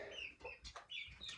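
A new rooster and dark Brahma hens cluck in short, close bursts, several quick calls in a row with no voices.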